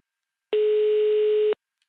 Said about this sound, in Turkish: Tamamdır Hasan Usta'yı arayayım bakayım.